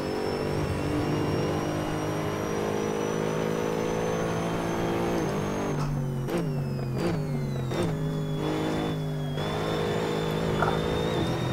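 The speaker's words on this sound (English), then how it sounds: "These downshifts, they're so ferocious." Mercedes-Benz SLS AMG GT3 at Spa in Assetto Corsa, a loud sustained engine howl, then a series of sharp downshifts, about four quick stepped drops in engine pitch with blips between, before the revs settle again.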